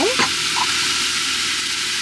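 Food fries in a pan with a steady close sizzle, broken at the start by a brief scrape or clatter.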